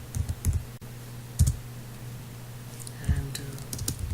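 Short bursts of clicking keystrokes on a computer keyboard come in a few separate clusters, close and moderately loud over a low steady hum.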